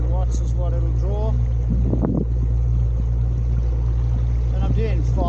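An electric motor fitted to a Hobie MirageDrive kayak runs at wide-open throttle, drawing about 500 watts, and gives a steady low hum under constant wind rush on the water while someone talks over it.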